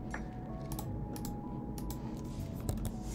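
Computer keyboard keys are pressed in scattered, light clicks over a steady background hum, with no talking.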